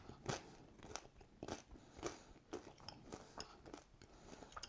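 Someone bites into crispy pasta crisps, a viral snack, producing a series of close, quiet crunches and chewing crackles repeated at an irregular pace, with no talking.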